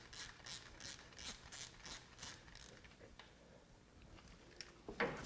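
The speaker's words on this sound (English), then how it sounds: "get our bolt back on here. Ten millimeter socket." Ratchet with a 10 mm socket tightening a bolt during a PCV valve replacement, a quick run of about eight crisp clicks that thins to scattered softer ticks and ends with a metallic clink, close and fairly quiet.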